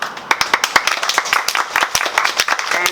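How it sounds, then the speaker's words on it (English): A small group at a graduation ceremony claps loudly and close, with sharp uneven hand claps running steadily throughout, no speech over them. "So let's have another round of applause for ourselves."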